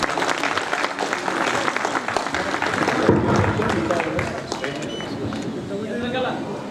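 Applause at a school alumni reunion for the 1990-1991 batch, a dense steady clatter of many hands lasting several seconds, with people talking through and over it.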